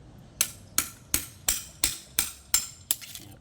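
A hammer drives a chisel to cut motor wire ends, landing eight sharp, evenly spaced metallic strikes, each ringing briefly, close by and clear.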